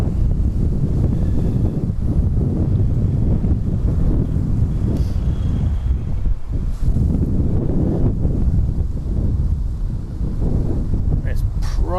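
Strong wind at an airport buffets the microphone with constant low roaring rumble throughout, drowning out any other sound.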